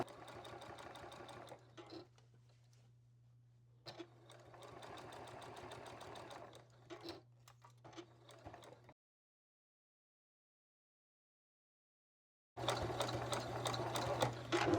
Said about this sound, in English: I'm going to sew this, and this is still all 1/4 inch seam.